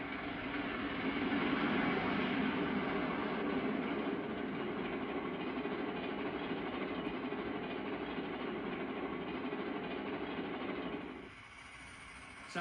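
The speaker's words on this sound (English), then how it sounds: "A K5 Pacific with a fast mail and express train." A K5 Pacific steam locomotive hauls a fast mail and express train, a loud, continuous rolling rumble and roar that holds steady for about eleven seconds, then drops away sharply.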